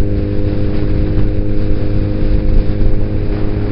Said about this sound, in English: I actually hate wind.